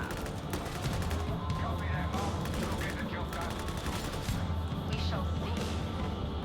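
Autogun fire from an Arbites build in Warhammer 40,000: Darktide, a loud, dense rattle of rapid shots with crashes mixed in, steady from start to finish.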